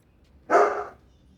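A single short, sharp dog bark, fairly close and alone against a quiet background.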